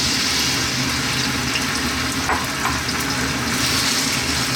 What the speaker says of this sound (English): We're heating that up because what I want to do is fry our potatoes first.